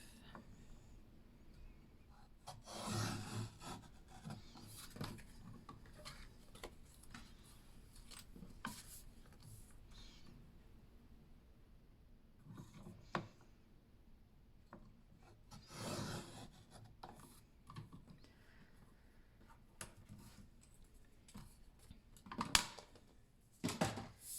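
Paper pieces for a Christmas trifold mini album are cut slowly with scissors, giving soft intermittent rubbing and snipping sounds at a quiet, close level with long pauses between bursts.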